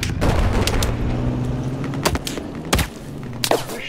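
Gunfire in Battlefield 4 during a large Conquest match: a rumbling bed of battle noise broken by several sharp, loud shots and thumps, some close and some distant, with no one talking.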